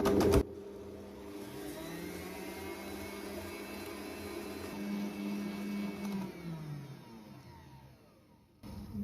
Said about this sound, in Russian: Взбиваем на высокой скорости миксера 8-10 минут.